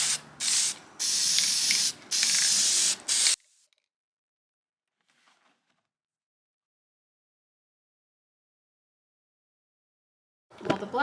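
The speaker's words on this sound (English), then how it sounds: "So I'm going to spray paint these oats black" An aerosol spray paint can hisses in several short bursts outdoors while black paint is misted over oats, followed by near silence and a faint rustle at the end.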